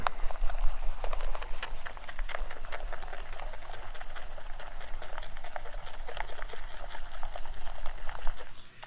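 Shaving soap is whipped into a lather, giving a close, continuous wet squelching and bubbling with a steady rhythm and no talking.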